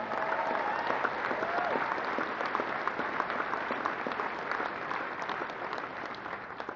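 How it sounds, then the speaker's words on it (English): A large crowd applauds Washington governor Chris Gregoire at an indoor political rally in Seattle, with sustained loud clapping and a few cheers filling the space at an even level throughout. "Please give her a big round of applause"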